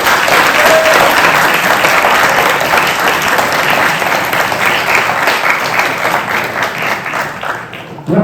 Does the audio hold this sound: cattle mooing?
no